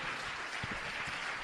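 Church congregation clapping together, a dense, steady wash of applause heard at moderate distance with no voices standing out.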